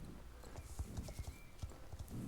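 Galloping horse hooves in the online game Star Stable Online, a steady rapid clip-clop of a single horse running, fairly close, with no talking over it.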